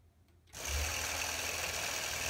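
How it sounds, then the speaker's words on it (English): A Gammill Vision longarm quilting machine starts up and stitches at a fixed speed, its needle running in a steady, fast mechanical whir that stays loud and even once it kicks in. "So that needle is just bobbing up and down at a fixed rate"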